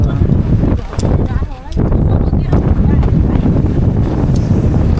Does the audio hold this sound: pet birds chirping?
no